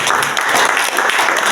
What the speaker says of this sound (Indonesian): Kita berikan tepuk tangan buat Tuhan kita semua.